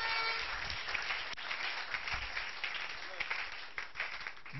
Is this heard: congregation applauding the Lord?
yes